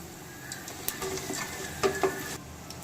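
Mustard seeds, chana dal and cumin hit hot oil for a soft, close sizzle, with a few light clinks and stirring scrapes from the pan.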